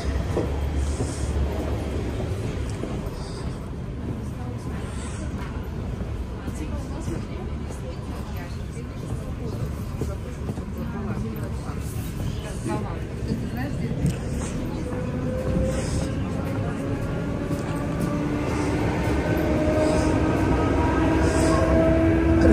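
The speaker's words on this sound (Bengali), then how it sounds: "লোকাল ট্রেন হলে কি হবে, ট্রেনের কিন্তু অনেক ভালো একটা স্পিড।" A Moscow local train runs at speed, heard from inside the carriage as a loud steady rumble with wheel clatter and rising squealing tones near the end, with voices mixed in.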